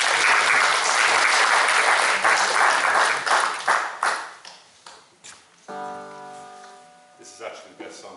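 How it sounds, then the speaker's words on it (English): Live audience at Belmullet Arts Centre applauding singer Aoife Farrell, loud dense clapping that tapers off after a few seconds into sparse claps, with a sustained tonal ring and faint music entering near the end. "let's have a big round of applause for Aoife Farrell."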